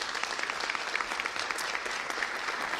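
Steady applause from a crowd at a bill-signing ceremony held by the Illinois governor, many hands clapping in a dense, continuous patter without pause.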